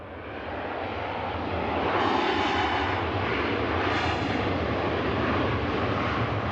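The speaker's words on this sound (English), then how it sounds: "an absolute greaser of a touchdown from the KLM" A KLM airliner touches down and rolls out at Manchester Airport, its broad jet roar swelling over a couple of seconds and then holding steady with surging rushes, fairly distant.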